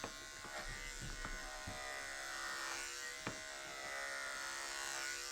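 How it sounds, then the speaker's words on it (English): An electric clipper buzzes steadily and close during a dog grooming session, with a constant drone and a few soft clicks as the blade moves along the dog's coat. "And now I can start shaving her."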